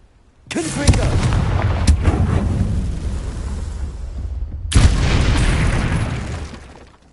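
Confringo blasting spell explosions in a Harry Potter video game: two heavy, booming blasts, the first rumbling on for several seconds before a second strong burst rolls out and fades.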